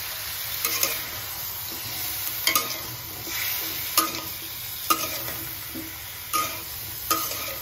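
Ground cumin paste fries in a hot pan for a dish made with banana peel, a steady low sizzle punctuated by a few sharp knocks and scrapes of a spatula stirring at regular intervals, close up with no voices.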